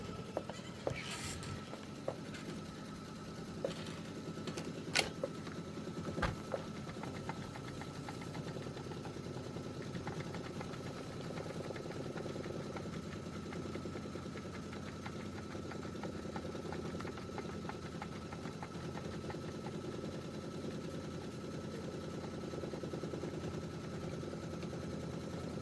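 A Kimberbell embroidery machine stitches a quilt block, a faint, steady rapid mechanical whirr with a few small clicks near the start, running on continuously with no talking.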